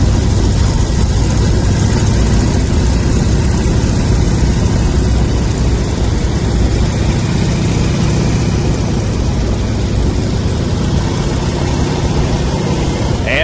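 A Boeing Stearman biplane's engine drones steadily in flight, a loud, continuous broadband roar recorded close in the cockpit, unbroken for the whole stretch with no voices.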